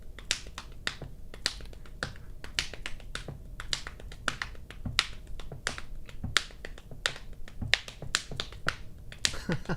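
Rapid drum strokes in sixteenth-note groupings of five led by the left hand, sounding as a dense stream of sharp, crisp hits with accented pulses repeating across the passage, close and steady with no talking.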